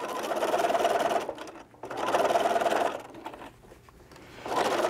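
A sewing machine stitching fabric for a knot bag, its motor whirring in steady runs that pause and resume, close and loud with no talking.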